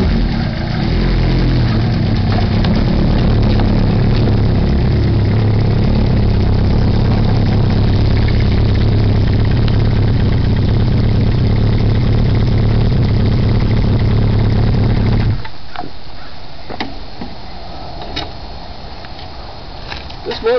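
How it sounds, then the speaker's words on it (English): A motorcycle engine idles steadily with a loud, close rumble for about fifteen seconds, then cuts off, leaving quieter background noise and faint clicks. "Then I'm going to ride the motorcycle out in the yard."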